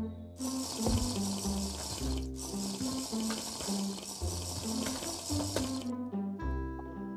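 A tap runs steadily for several seconds, a bright continuous rush of water that stops abruptly near the end, heard over looping background music from a video game.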